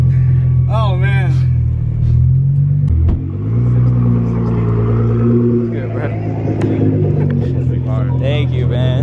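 A Nissan GT-R's engine runs with a steady low rumble and a brief rev midway, loud and close, while people talk over it.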